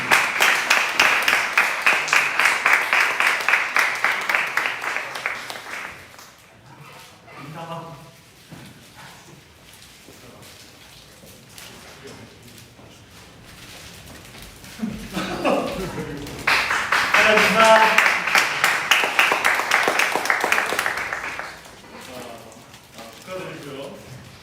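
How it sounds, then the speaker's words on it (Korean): Church youth congregation at a Sunday service clapping for July birthdays, a bright burst of rapid applause, then a stretch of murmured talk and laughter, then a second loud round of clapping that fades out. "자, 우리 박수 한번 쳐드릴까요?"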